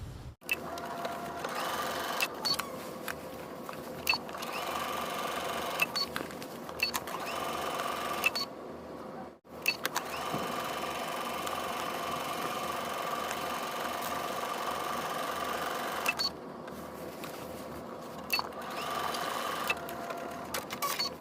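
A sewing machine runs almost without pause, stitching a 5/8-inch seam along the raw edges of fabric. The whirring motor is steady and close, with one brief stop partway through and no talk.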